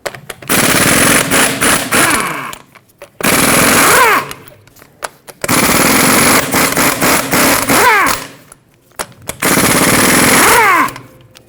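Impact wrench bursts loosening the 21mm lug nuts on the rear wheel of a 2011-2016 Ford F-350, four loud rattling hammering runs of one to two seconds each, separated by short pauses.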